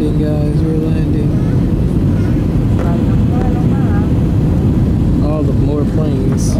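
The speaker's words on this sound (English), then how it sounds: "Guys, we're landing." Airliner cabin during a landing approach over Florida, a loud constant engine roar filling the whole stretch while excited voices talk over it.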